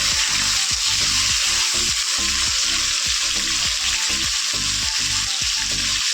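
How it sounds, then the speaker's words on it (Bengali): Pointed gourd pieces frying in hot oil, a constant close sizzle with regular scraping strokes of a spatula stirring the pan. "তাই পটলটা একটু ভাজা করে নিতে হবে"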